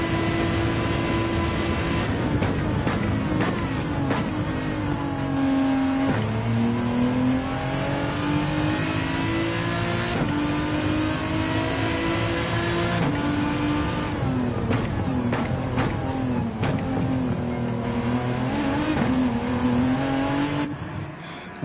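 Gran Turismo 7 Group 3 race car lapping Bathurst during an endurance race: a loud, continuous engine note that climbs and drops with repeated gear shifts and revving, close and steady throughout.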